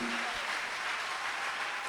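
Audience applauding and cheering at a church seminar, a dense, steady wash of clapping that fills the whole clip without pause.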